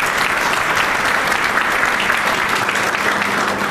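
A hall audience claps for Nikhil Deshpande at a Kothrud gathering about care for elderly patients: dense, even applause, loud and sustained without a break, with no voices over it.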